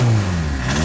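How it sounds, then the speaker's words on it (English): A 1984 VW Golf engine with an exhaust leak revs briefly up close, a loud rough mid-pitched drone rising and falling in pitch over less than a second. "Exhaust leak."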